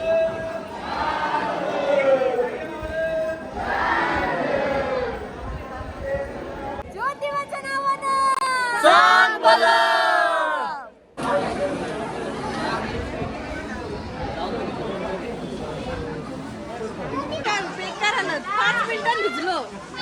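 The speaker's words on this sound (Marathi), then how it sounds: "भरपूर गर्दी आहे पण लय भारी वाटतं" A dense crowd at a Maharashtra temple pilgrimage site during rain, with continuous loud chatter and hubbub close around, and bursts of excited voices mid-way; people talk throughout.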